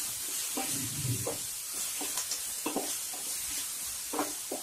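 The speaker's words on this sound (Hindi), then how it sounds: "और साथ में हम डालेंगे अदरक लहसुन का पेस्ट।" Coarse paste of garlic, ginger and green chilli frying in a pan for vada pav, a steady soft sizzle with intermittent stirring scrapes throughout.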